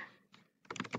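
Keys clacking on a computer keyboard as a web address is typed, a few scattered taps followed by a quick, close burst of keystrokes.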